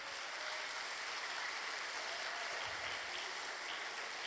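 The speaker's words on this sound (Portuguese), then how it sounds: "podem aplaudir o Senhor" A church congregation at an evening worship service applauds in praise, a continuous, even roar of many hands clapping in a large room, sustained without pause.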